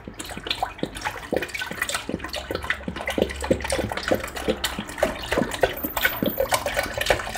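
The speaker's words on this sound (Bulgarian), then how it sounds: "Сипвам си 2 литра прясно млеко в тенджерката." Fresh milk, two litres, poured into a pot makes a continuous close splashing gush with rapid liquid bubbling throughout, moderately loud and with no speech.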